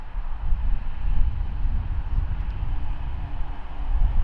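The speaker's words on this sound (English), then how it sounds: "You can hear every vehicle, lorry, car going past." Traffic, including lorries and cars, streams past on a nearby motorway heard from a riverside fishing spot, forming a continuous low, rumbling roar with some wind buffeting and no speech.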